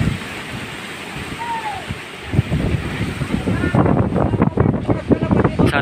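Strong typhoon wind in Infanta, roaring and gusting steadily around a small store, with rain-like hiss and someone talking over it in the second half.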